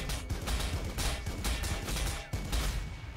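Dense gunfire from the Warhammer 40k Sanctus Reach video game: overlapping bursts of shots and rapid fire rattle continuously at full loudness, with one brief dip near the end before the barrage resumes.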